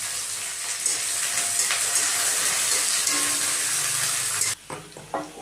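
Chopped onion sizzles in hot oil with black cumin and dry chilli, a loud, steady hiss that cuts off abruptly near the end, followed by a few light kitchen clatters.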